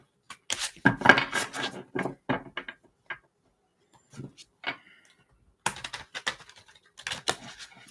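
Tarot cards shuffled by hand in bursts of crisp riffling and slapping, with pauses of near silence between the quick runs.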